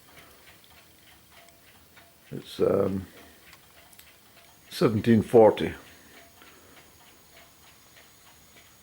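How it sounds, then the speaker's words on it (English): Clocks ticking around a house, a faint steady regular tick-tock running quietly under someone speaking briefly twice. "You might hear some ticks."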